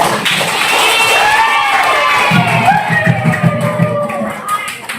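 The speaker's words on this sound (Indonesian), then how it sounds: "Tepuk tangan mana?" At a school report-card event for grade 9 students at SMPN 1 Watang Pulu in Sidrap, Indonesia, an audience breaks into loud cheering, shouts and clapping. Raised voices swell and then fade.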